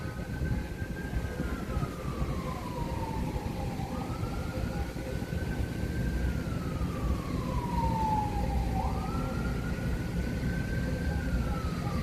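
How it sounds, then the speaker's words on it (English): An emergency siren passes outside at a distance, with a slow wailing rise and fall that repeats about three times over a steady background rumble. It stays faint and no one speaks. "There's that siren again."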